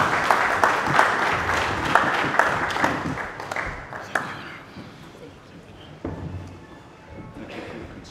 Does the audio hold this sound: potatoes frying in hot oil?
no